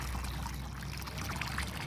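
Drinking water is poured out for pigeons, a soft, continuous splashing trickle at close range that runs steadily for a couple of seconds without speech.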